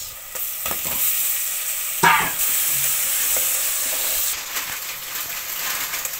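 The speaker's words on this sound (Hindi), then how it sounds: "अब इस पर अच्छे से ऑनियन को बनाएंगे पकाएंगे" Onions fry with homemade spices in a pan, giving a continuous hissing sizzle, with a sudden louder burst of steam and scraping as they are stirred midway, then a steady sizzle.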